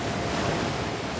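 Ocean waves breaking at the Windansea Beach reef, a steady, dense roar of surf with wind noise, loud and continuous and without distinct individual crashes.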